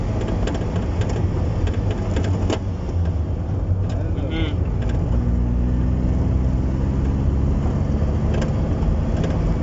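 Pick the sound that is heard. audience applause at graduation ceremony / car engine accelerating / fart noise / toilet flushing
car engine accelerating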